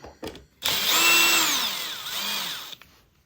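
A power saw bites into wooden baseboard and hits a knot, its loud whining motor pitch sagging under load then recovering, close by with no talk.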